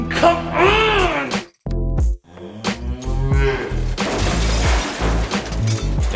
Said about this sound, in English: And this is how cows manage to open the window to freedom.